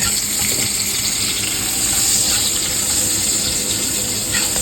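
Onions sizzling and frying in a pan over a gas flame for a chicken kosha curry, a steady, close hiss running throughout with no talking.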